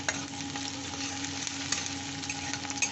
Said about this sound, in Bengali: এইবার পেঁয়াজটা একটু হালকা ভাজবো আমি